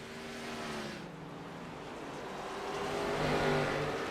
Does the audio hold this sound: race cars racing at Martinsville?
yes